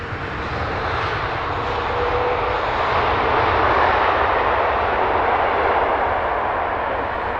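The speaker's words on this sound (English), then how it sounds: "Another Delta A330neo," A Delta Airbus A330neo airliner passes near Heathrow, its engines a loud, steady broadband roar that builds gently and holds through the whole stretch with no voices.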